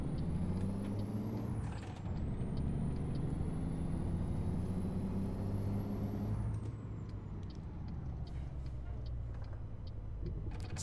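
A heavy truck in American Truck Simulator rumbling low and steady, with a sharp hiss of air brakes near the start and a long high whine across the first part as it slows to park.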